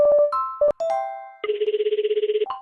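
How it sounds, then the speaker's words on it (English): An electronic phone ringtone plays clear and close: a few melodic tones, then a fast warbling ring pulsing steadily for about a second, with no voices. "Your DDD is ringing."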